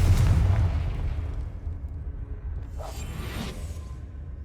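A Confringo fire spell explodes in Hogwarts Legacy on PS5, opening with a heavy deep boom that rumbles and fades, followed by a brief whooshing burst with no talk.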